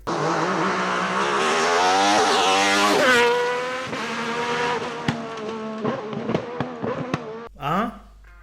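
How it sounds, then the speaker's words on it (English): A loud, raspy 2.5-liter, 420-horsepower rally car engine revs hard and climbs in pitch, then backs off into sharp popping, crackling bursts as the throttle is blipped. "This is the best sound that a car ever had."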